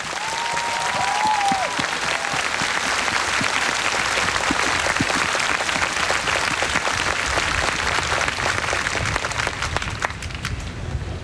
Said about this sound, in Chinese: 请大家给自己一个热情的掌声